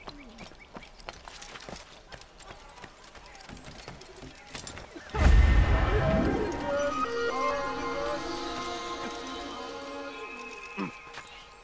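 Horse in the video game Assassin's Creed: light hoof clip-clops, then a loud close neigh that trails into a long whinny over faint game ambience, with a brief thump near the end.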